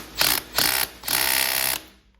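A ratchet works a 10mm bolt loose on a Honda Z50 engine, with two short bursts of clicking and then a longer run, close and crisp.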